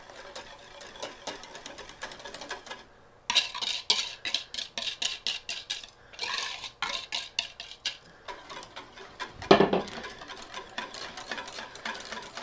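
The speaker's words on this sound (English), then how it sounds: "Now I'm just going to keep whisking." A wire whisk beating blueberry pudding custard sauce in a metal pan, rapid rhythmic metallic ticking and scraping in quick bursts after a quiet opening, close and fairly crisp, with one louder clank near the end.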